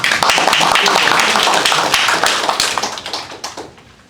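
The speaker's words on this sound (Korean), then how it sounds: "긴급 자담회를 여러분의 힘찬 박수로 시작하겠습니다" Audience at a civil society elders' emergency roundtable claps loudly to open the meeting, close and vigorous applause that holds for a few seconds and then tapers off into scattered claps.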